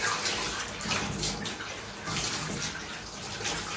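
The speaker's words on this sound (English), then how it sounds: "The idea being is with the hose pipe, I've got a continuous flow of water." A hose pipe sends a continuous stream of water over a glass enclosure during rinsing, a steady close splashing hiss that surges slightly as the spray moves.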